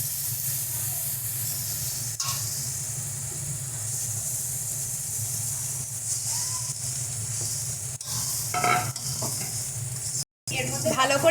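Garlic paste and ground green peas sizzle steadily in hot oil in a kadai while being stirred, a continuous frying hiss with occasional scraping strokes, close and alone with no talk.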